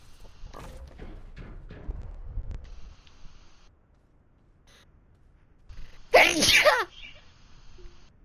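One sharp, loud sneeze bursts out near the end, after a stretch of quieter shuffling noises and faint background sounds.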